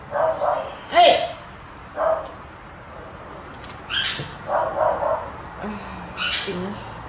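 Dogs bark in short intermittent yaps and woofs, some mixed with bird squawks, moderately close, over room noise with a person talking at times.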